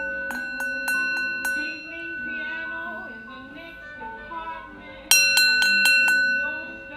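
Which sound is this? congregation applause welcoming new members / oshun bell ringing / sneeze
oshun bell ringing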